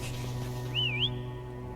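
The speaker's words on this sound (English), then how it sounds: "Did she just whistle?" A game character gives a single short rising-and-falling whistle, clear and close, over a steady low in-game ambience.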